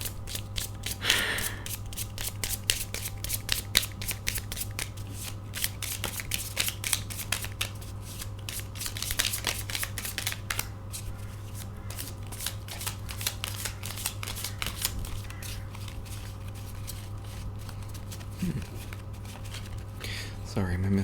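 Tarot cards being shuffled by hand, a run of quick papery riffles and flicks over a steady low electrical hum, with occasional soft breaths and murmurs in between.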